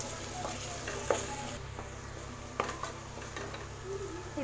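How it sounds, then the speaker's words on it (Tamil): Two green chillies frying on medium flame in a pan for soya meal maker biryani: an even sizzle broken by occasional spatula clinks and scrapes against the metal, with no voices. "இப்போ இதில் நான் ஒரு 2 பச்சை மிளகாய் ஆட் பண்ணுறேன். இதே நல்லா லேசாக வதக்கிக்கலாம்."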